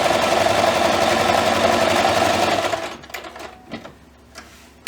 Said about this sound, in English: I am just going to put it in my machine, and I'm going to just top stitch around.